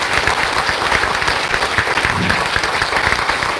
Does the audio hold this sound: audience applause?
yes